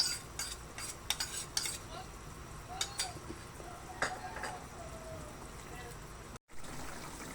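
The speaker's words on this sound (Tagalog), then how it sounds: "Halo-halo lang po para magkapantay-pantay po lasa niya." Close, soft stirring of a tofu and pork stew thickened with cornstarch in a pot, with intermittent spoon and utensil scrapes against the metal over a low background bubbling.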